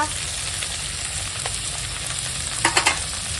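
Chopped tomato and ginger-garlic paste frying in a pan after onions and slit green chillies, a steady close sizzle with a few soft stirring scrapes and a short cluster of clinks near the end.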